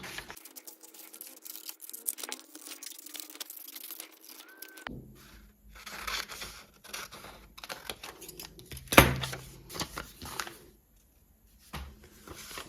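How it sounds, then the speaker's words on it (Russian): Scissors cut out fabric pattern halves for an oval bottom in a handmade sewing tutorial, with close snipping and rustling of the material. The snips come in short bursts with brief pauses between them. "Так я вырезаю"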